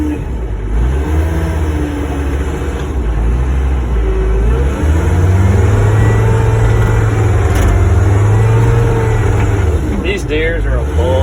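A John Deere 329 skid steer with a grapple drives around, its engine a loud, close, continuous rumble that rises and falls as it revs.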